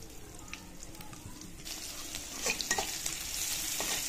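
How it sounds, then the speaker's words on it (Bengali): Onion, slit green chili and whole spices (cardamom, cloves, cinnamon, cumin) frying in oil for a spicy Bengali fish curry, a steady close sizzle with occasional stirring scrapes that grows louder toward the end. "দিয়ে একটু ভেজে নেব"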